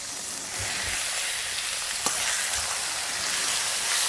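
Meat frying together with golden onions in a pan gives a steady, close sizzle with a few soft stirring scrapes and one sharp tap midway; no one speaks.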